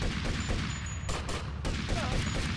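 Rapid gunfire in GTA Vice City: a dense fusillade of repeated shots cracks steadily throughout over a loud, busy game background, with no voices.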